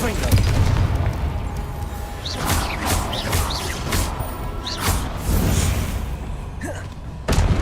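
Confringo blasting spells explode in the Hogwarts Legacy video game, a series of sharp, punchy bursts and whooshing impacts spread over several seconds, with a loud final blast near the end.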